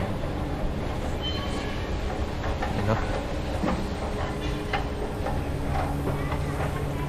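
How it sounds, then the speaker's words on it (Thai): A steady rumble of an MRT metro train in Thailand running along the tracks, with faint rattling and a few distant voices underneath. "บากับจุนก็เดินทางมาโดยรถไฟฟ้า MRT"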